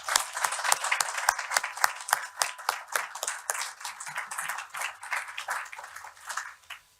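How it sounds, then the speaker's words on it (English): Applause for staff at a Citizens Advice annual general meeting: many hands clapping in a steady, dense burst that runs the full seven seconds and tapers off at the very end. "Could I ask for a round of applause for our staff,"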